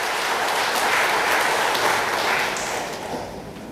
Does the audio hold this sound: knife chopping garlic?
no